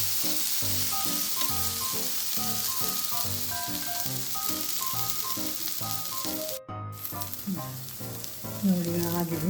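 Jowar flour rava onion dosa frying on a hot pan, a steady close sizzle running throughout with rhythmic tonal music underneath, broken by a brief dropout near the end when the dosa is flipped.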